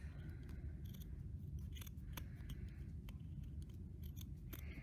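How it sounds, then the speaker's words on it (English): Scissors make a quick series of crisp snips through excess plastic canvas trimmed from a stitched cat keychain craft, close and clear, with no talking. "I'm going to cut a little bit here, excess off."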